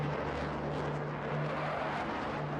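Steady helicopter drone passing overhead as a sound effect during a tabletop role-play scene, a continuous loud rumble with a low engine hum held throughout, no speech over it.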